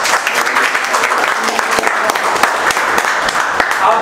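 A classroom audience bursts into loud applause for a student, dense rapid clapping from many hands sustained evenly for several seconds at close range.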